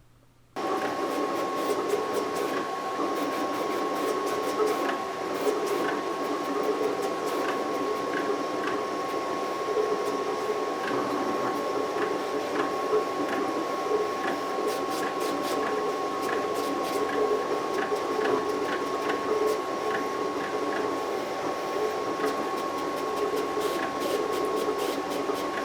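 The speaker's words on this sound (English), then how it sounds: "let's go ahead and send this to the vinyl cutter and cut it out" Vinyl cutter cutting out a decal sticker, a steady mechanical hum with a constant tone and a quick series of small ticks and clicks as the blade carriage moves, continuous and fairly close for the whole stretch.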